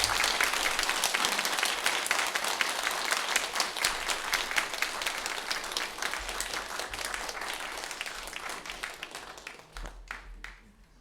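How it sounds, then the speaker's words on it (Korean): A church congregation gathered for its 33rd anniversary service claps steadily and warmly to welcome the pastor, a dense, sustained round of applause that slowly thins and fades out over the last second or two. "우리 목사님 나오실 때 크게 우리 환영의 또 감사의 박수를 하겠습니다"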